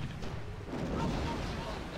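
Ship cannon fire in Sid Meier's Pirates!, heard as dull, muffled booming rumbles at moderate distance, blending into a continuous low roar with speech mixed in.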